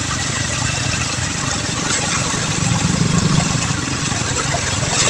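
A vehicle approaches along a flooded highway, a steady rumbling engine over a wash of water noise, loud and continuous, swelling slightly midway.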